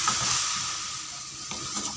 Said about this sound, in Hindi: इन सारी चीज़ों को मिक्स करेंगे।